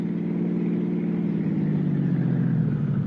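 A car on the road north along the coast highway out of Santa Monica, a steady mid-pitched engine drone with road rumble, holding an even, continuous level throughout with no voices.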